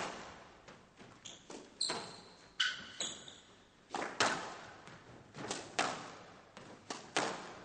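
Squash ball striking the front and side walls during a professional British Open final match, a steady series of sharp, echoing smacks and thuds at uneven intervals, fairly close and clear with no talk over them.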